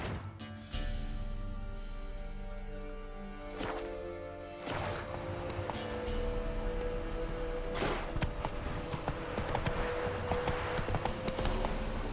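Roach the horse galloping in The Witcher 3, with rhythmic clip-clopping hooves that run steadily and speed up over moderately loud game ambience and music.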